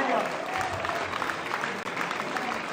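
An audience applauds two junior fighters after a 70.3 kg bout decided on points, a continuous dense crackle of many hands that holds steady throughout.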